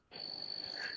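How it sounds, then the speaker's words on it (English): Crickets chirp outdoors in remote countryside, a faint, steady high-pitched trill that starts abruptly and continues without pause, with no voices. "I can hear the crickets"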